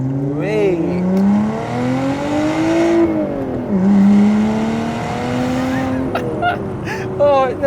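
A Lotus Evora sports car driven hard, engine note rising and falling through gears with tire squeal, loud and close, with a voice talking over it.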